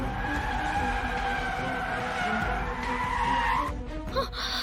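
A car skids on a punctured tyre, a loud sustained tyre screech with engine roar that rises and then cuts off near the end, followed by a brief knock.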